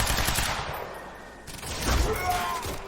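Gunfire in the shooter game Quantum Break rattles in rapid bursts with a booming impact, close and loud, against a dense background of combat sound effects.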